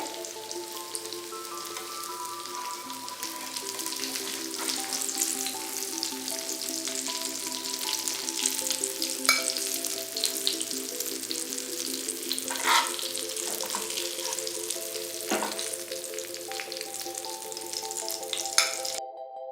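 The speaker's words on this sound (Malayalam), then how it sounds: "വേപ്പില വെളിച്ചെണ്ണയിലേക്ക് ഒന്ന് ആക്കി കൊടുക്കാം" Curry leaves fry in coconut oil with a continuous crackling sizzle, steady and moderately loud, and faint tonal hum beneath.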